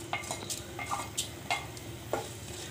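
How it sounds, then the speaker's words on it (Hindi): Mustard seeds crackle and splutter in a spoonful of hot oil, a steady frying hiss broken by several sharp pops scattered irregularly across the moment, close and moderately loud with no talking. "राई को अच्छे से तड़कने देना है।"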